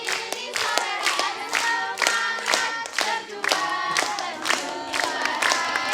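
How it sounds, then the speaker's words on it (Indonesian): Studio audience on a children's Islamic preaching competition show claps in loud, rhythmic unison, with crisp, evenly spaced hand claps and some crowd voices over steady music throughout. "Boleh tepuk tangannya yang lain juga."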